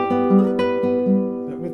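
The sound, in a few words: guitar playing a passage from Romance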